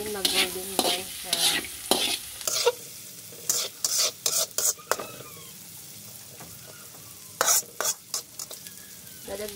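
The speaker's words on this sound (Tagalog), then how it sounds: "para maluto siya. Hintayin lang natin mag-golden brown siya." Ham and margarine fry in a pan for carbonara, giving a soft steady sizzle under repeated scraping bursts of a spatula stirring against the pan, close and fairly loud, with no speech.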